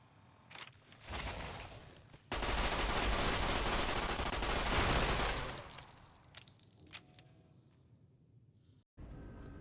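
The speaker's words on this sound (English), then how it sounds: "we pull out Vance's lucky 9mm submachine gun, which deals with them quite quickly" In the video game Fallout New Vegas, a 9mm submachine gun fires a dense sustained burst lasting a few seconds, preceded and followed by scattered shorter shots and clanks within the game's ambience.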